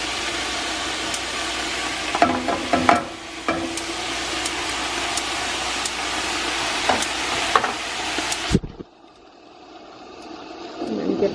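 Onions sautéing in a pot for vegetable soup, a steady close sizzle with occasional stirring clatters, cutting off near the end into quiet.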